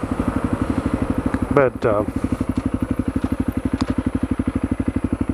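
A Honda CRF250L dual-sport motorcycle engine runs steadily in cold winter weather, a close, even pulsing drone that carries through the whole stretch while someone speaks briefly over it.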